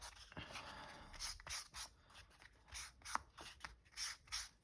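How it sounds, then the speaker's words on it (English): Edges of a paper craft piece are inked with an ink pad, giving soft, quiet rubbing and brushing strokes in short repeated bursts with brief pauses between, close and faint, with no talking. "now I'm just going to ink up the edges a little bit"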